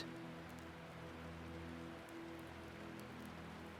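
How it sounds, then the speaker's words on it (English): Gentle rain falls steadily on a lake at night, a soft continuous patter with a low steady hum beneath it, quiet and unbroken, with no voices. "lulled by the gentle rhythm of the rain and embraced by the serenity of Emerald Lake, Lina sleeps"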